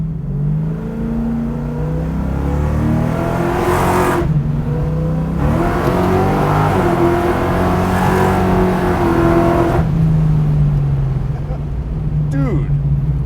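A Pontiac Trans Am Firebird drag car with big tires revs hard and climbs through gears in a loud, steady acceleration heard from inside, with people talking over the roar.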